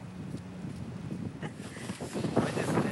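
Strong wind blows across an Antarctic marathon course in freezing conditions, making a rough, gusting roar against the microphone that builds louder toward the end of the short stretch.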